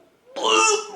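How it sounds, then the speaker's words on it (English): A single short, rough cough or throat-clearing burst from a person, close and fairly loud, rising quickly and fading after about half a second, with no talk around it. "You just coughed this up out of your mouth?"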